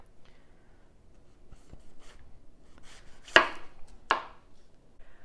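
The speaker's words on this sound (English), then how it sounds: "once we're done cutting all the tomatoes" A knife cuts green tomatoes for pickling on a board, a few sparse soft taps followed by two sharper, louder chops near the end, close and otherwise quiet.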